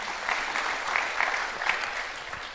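A church congregation claps steadily for a couple of seconds, a dense continuous patter of many hands.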